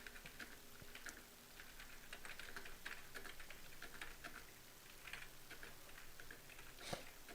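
Keys on a computer keyboard clatter in quick irregular bursts at a desk, faint and close, with short pauses between runs of typing and no talking.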